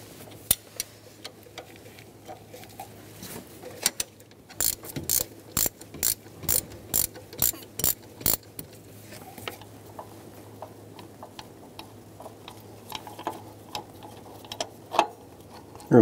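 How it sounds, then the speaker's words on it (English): A 15 mm ratchet wrench backs out the automatic belt tensioner bolt on a 2014-2018 Chevrolet Silverado 5.3L V8, giving close, rapid bursts of clicking with short pauses between strokes and no talking. "we're going to remove the automatic tensioner using a 15 millimeter wrench to remove the bolt for the tensioner"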